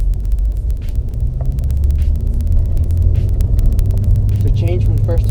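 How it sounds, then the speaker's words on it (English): A manual-transmission car pulling away in first gear after the clutch is released, its engine drone steady and loud from inside the car. "let go of the clutch, and give it some gas. And the car will start going."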